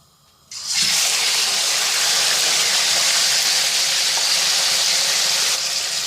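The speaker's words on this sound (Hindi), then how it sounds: "और अब मैं इसके अंदर ऐड कर रही हूँ चिकन।" Chicken pieces hitting hot oil in a karahi for a restaurant-style Shinwari chicken karahi, bursting into a loud, steady, close frying sizzle that holds at full strength after a quiet start.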